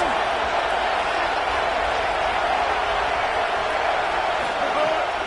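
Stadium crowd in the College Football 27 video game cheering for the defense on a big third down: a dense, steady roar of massed voices, loud and unbroken throughout.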